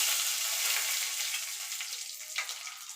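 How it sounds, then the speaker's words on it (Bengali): Dry red chilies and five-spice tempering fry in hot oil for a drumstick lentil dal, giving a dense continuous crackling sizzle, close and steady, with a faint scrape near the end and no talking. "এবার ফোড়নটা একটুখানি ভাজা ভাজা করে নেব।"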